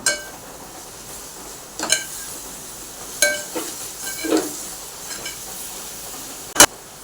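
Watermelon seeds get stirred into a cooking motichoor ladoo mixture, giving a quiet simmering hiss broken by several sharp scrapes and clinks of a spoon against the pan, close by with no talk.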